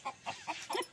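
A few short clucks from a chicken, four quick bursts spaced about evenly, close by and fairly quiet, as the chicken pecks someone.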